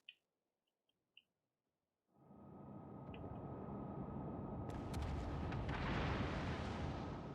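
Naval guns fire salvos in a warship battle game, a sudden heavy roaring blast swelling after a couple of faint clicks and sustaining as a loud rumbling wash with crackling bursts.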